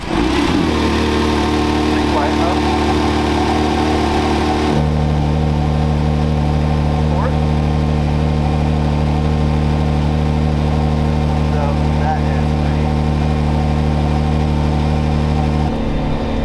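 A 2021 Acura NSX engine idles steadily with a deep, even drone that shifts in pitch partway through, close and loud, while people talk over it.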